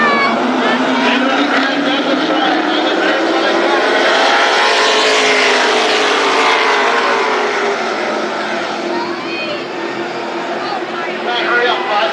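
Late model race cars roar around Berlin Raceway in a dense pack, the steady engine din swelling and fading as the field passes, with an announcer talking over it throughout.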